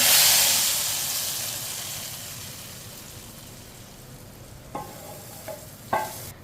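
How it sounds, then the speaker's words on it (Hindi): A loud sizzle of tempering with browned onions in hot oil hitting a pot of masoor dal, hissing strongly and then fading into a low simmer, followed by a few light stirring clinks. "प्याज को मैंने ब्राउन कर लिया है। तड़के को हम दाल में डालेंगे।"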